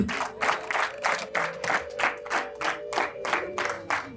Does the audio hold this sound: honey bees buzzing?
no